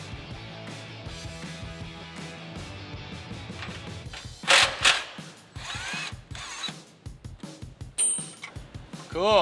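A socket wrench with a 13mm socket on an extension works an exhaust bolt loose under a Jeep Wrangler JL 3.6L four-door, giving quick ratcheting bursts and metallic clicks, with louder clanks near the end and a person talking at times.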